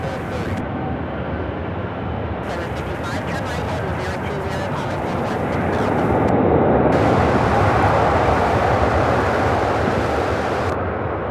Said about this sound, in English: Perhaps a takeoff from 18 Center.